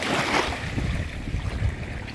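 Ocean waves wash and surge at sea, with a steady broadband roar, gusty wind buffeting the microphone and a possible boat's low rumble underneath, loud and close throughout.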